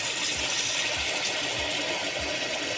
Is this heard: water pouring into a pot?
yes